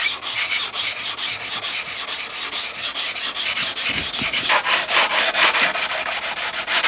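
Rapid rhythmic rasping of sandpaper scrubbing fiberglass, loud and close, in steady back-and-forth strokes with no talking.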